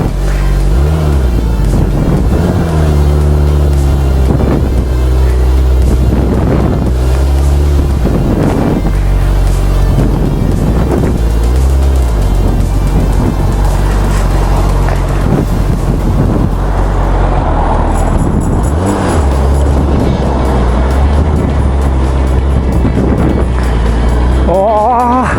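New Suzuki Hayabusa motorcycle under way, a loud, continuous engine drone with shifting pitch as it accelerates and eases off, heavily buffeted by wind noise throughout.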